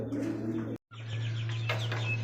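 Bombay pigeons coo in a steady, low, droning call with a brief cut partway, close and moderately loud, with faint chirps and wing rustles over it.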